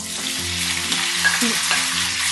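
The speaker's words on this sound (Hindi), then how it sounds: "वाइट होने तक हमने चिकन को इसमें फ्राई करना है।" Chicken pieces fry in about half a cup of oil in a pan, a loud, close, continuous sizzle with some stirring clatter and a steady low hum underneath.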